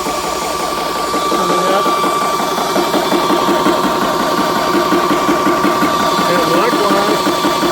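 A VEVOR PCP high-pressure air compressor runs steadily up close, a loud mechanical chugging drone with a fast pulsing rhythm, while someone talks over it.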